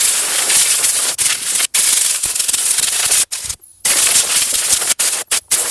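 Compressed air blasts through a Toyota Highlander air filter, a loud, close, broadband hiss in long bursts broken by several brief pauses as dirt is blown out.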